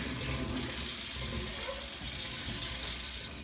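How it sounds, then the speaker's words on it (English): Water runs steadily from a tap into a sink, a continuous close gushing hiss with faint splashing from hands beneath it. "First thing you do is wash your hands."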